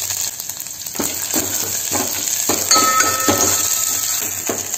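Mustard seeds and garlic sizzle steadily in hot ghee, a loud close crackle with occasional sharp pops and faint clinks of a spoon against the pan.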